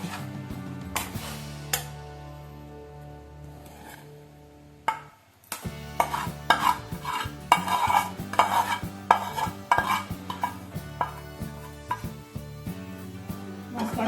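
A spoon stirs cooled chicken masala filling in a bowl, making a series of close scraping and tapping strokes with short pauses, plus sharp clinks of metal against the bowl.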